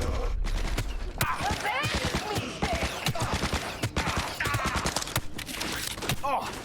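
Rapid gunfire from a smart pistol in Cyberpunk 2077, a dense rattling string of close, punchy shots with brief pauses, and a voice occasionally over it.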